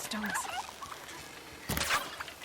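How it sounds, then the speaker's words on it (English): Turkeys gobble in the video game Horizon Zero Dawn, a quick warbling call near the start followed by a louder burst of gobbling, over quiet outdoor ambience. "More turkeys."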